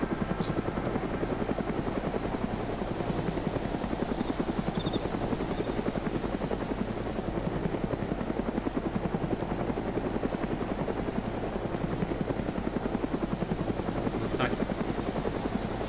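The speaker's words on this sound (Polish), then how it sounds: "Znowu jebany helikopter" A helicopter flies overhead in the video game DayZ, its rotor producing a continuous rapid thudding chop with a buzzing engine drone that stays loud and steady the whole time.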